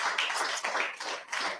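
Audience applause for a company managing director, a faint, steady patter of many hands clapping together, fairly distant and alone with no talking over it.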